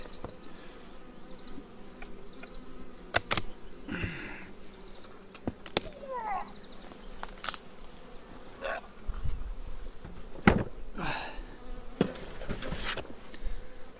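Carniolan honeybees buzz at an open hive on a cool morning, a constant close drone with individual bees zipping past in rising and falling whines, plus a few sharp knocks and clicks, no talking.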